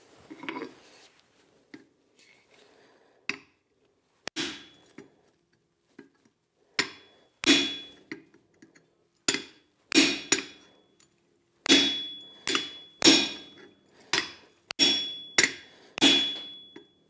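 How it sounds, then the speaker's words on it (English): Hammer blows strike a chisel cutting across hot steel at the forge, sharp metallic ringing hits spaced out at first, then coming in quicker clusters, loud and close with silence between. "I'm going to cut it with a chisel right across here"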